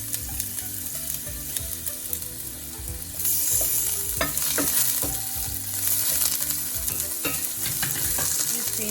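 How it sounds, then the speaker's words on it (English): Ginger and spices fry in a pan over medium-high heat, a steady crackling sizzle with scraping stirs, growing louder and denser partway through, with no voices. "Now I am going to fry the spices. I'll start with the ginger."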